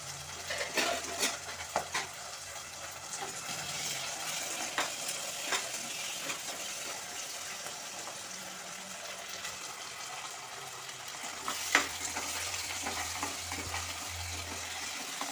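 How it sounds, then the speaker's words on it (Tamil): Garlic and herbs sautéing in a pot while a ladle stirs them, a soft steady fry under intermittent scraping and clanks of the ladle, close and moderately quiet with no voices. "நல்லா வதக்கிக்கிற வேண்டியதை கரண்டியை போட்டு ஒரு கிண்டல் போட்டுக்கிறோம்"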